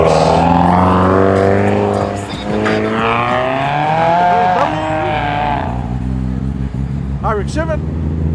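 A Subaru WRX pulls away from a car show in Penrith, its engine revving loudly and sweeping up through the gears before the sound fades. Tyres squeal briefly near the end.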